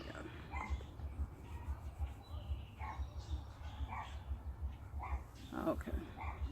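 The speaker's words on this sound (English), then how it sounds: "These dogs are steady barking." Several dogs bark repeatedly at a distance outdoors in the evening, intermittent yaps rising over a steady low hum and faint background activity, with mosquitoes around and people about outside.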